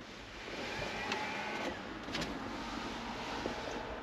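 Small fans of a homemade Arduino-controlled heat exchanger in a bicycle caravan at 10 degrees spin up to a steady, faint whirring hum with a few soft clicks.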